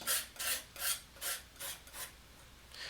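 A palette knife spreading oil paint on canvas, heard as a series of short scraping strokes about every half second, close and quiet, each a soft rasping swipe with brief pauses between, no talking.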